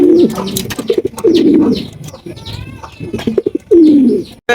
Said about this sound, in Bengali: একজোড়া গোল্লা কবুতর মাশাল্লাহ খুবই বড় সাইজ রেড কালারের মধ্যে